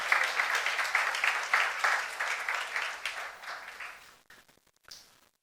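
Applause from a church congregation at a youth worship service, dense and steady for about four seconds before thinning into a few scattered claps and fading out.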